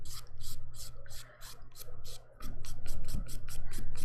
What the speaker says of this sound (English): we are getting there, buffing it out